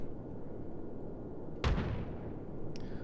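A single heavy naval gun salvo booms once in World of Warships over a low rumbling engine and sea background, with a faint trailing echo.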